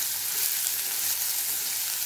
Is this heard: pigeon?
no